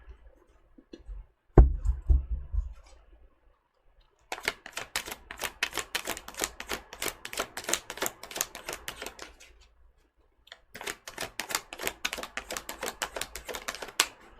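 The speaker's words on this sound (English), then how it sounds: "Let me shuffle this part over again." Rapid crisp riffling of cards in two bursts of several seconds each, separated by a short pause, with a thump near the start.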